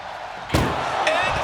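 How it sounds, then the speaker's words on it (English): An ambulance door slams shut with one sharp, loud bang during a wrestling match ambulance bout, followed by a second lighter knock under crowd and commentary noise. "Shuts the door and escapes."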